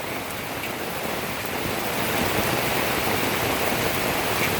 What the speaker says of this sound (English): Haven't seen it rain this high in a long time.